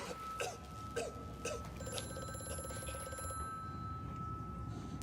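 A telephone rings in the horror game Amnesia: A Machine for Pigs, a bright repeating electronic trill held over a steady dark ambient drone, moderately distant and without talk.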